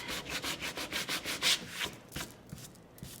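A sanding block rubs back and forth over a painted surface in steady, rhythmic close-up strokes that slow and fade toward the end.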